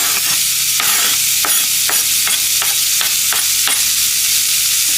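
Chopped celery sweating down in a hot pan for smothered chicken, a steady close sizzle with repeated scraping stirs at a brisk, even pace, no voices.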